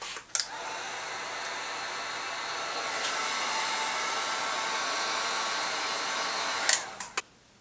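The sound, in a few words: hot air blower heating car stereo ribbon adhesive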